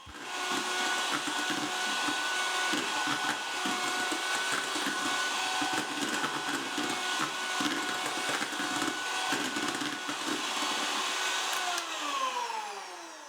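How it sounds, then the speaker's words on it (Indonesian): An electric hand mixer beats sugar with four eggs at high speed, a loud, continuous whirring drone with steady pitch that winds down near the end. "Klop deze met een mixer circa 5 minuten op hoge snelheid."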